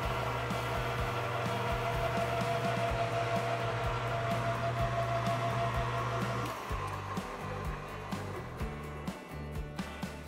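A lathe runs with a constant, loud mechanical whir while a small 5mm tap is started in the work, with a few faint knocks and shifts in the hum toward the end.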